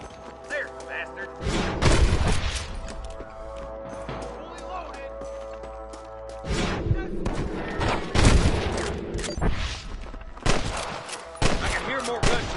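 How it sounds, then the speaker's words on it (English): Gunfire from a shootout in the Red Dead video game, with repeated loud bursts and volleys of shots clustered in waves, mixed with game sound and voices. "Take out those snipers, boy! Come on! Let's get these sons of bitches!"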